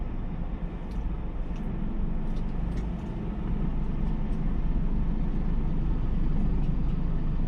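Truck with a 4 over 4 eight-speed gearbox creeping in 2nd gear on the clutch, a steady low diesel rumble close by, slowly building in loudness without talk.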